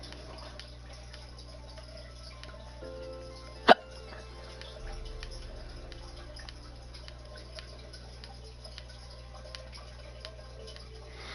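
Person hiccuping once, a single sharp sudden burst standing out against quiet background hum, with a faint ticking rhythm in the room.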